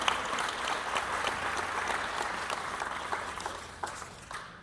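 Audience applause for schools, staff and students at a Knox County superintendent's annual report event, a dense, moderately distant wash of clapping that holds steady and slowly fades toward the end.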